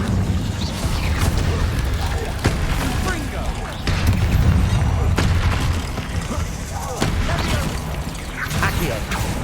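Fire spells cast in a Harry Potter video game, heavy booming whooshes and crackling bursts recurring across the stretch over a dense, loud rumbling game soundscape.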